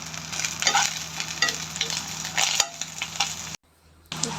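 Crushed garlic sizzles and crackles in a hot pan while being stirred, a close, steady frying hiss with scraping touches that cuts out briefly near the end, with no talking.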